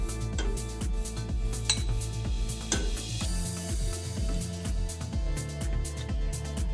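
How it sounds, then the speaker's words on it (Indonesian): A spoon stirs milk and tapioca flour in a bowl, making repeated close, bright clinks and taps against the bowl in a fairly regular rhythm, with no talking. "Aduk-aduk hingga susu dan tepung tapioka tercampur rata ya."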